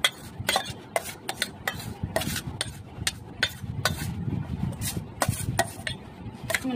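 Jhal masala muri, puffed rice tossed with chilli and coriander leaves, is stirred in a bowl, giving steady dry rustling and crisp scraping with sharp clinks of a spoon against the rim recurring every half second or so.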